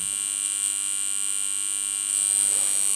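A homemade inverter built on a K176IE12 chip and IRL2505 MOSFETs, running at 220 volts, gives off a steady electrical hum with a high whine, growing slightly louder near the end, with no talk.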